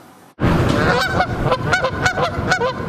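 Canada geese honk repeatedly during nesting season on an Ontario university campus, loud and close, with several overlapping calls in an irregular rhythm that continues steadily after a sudden start.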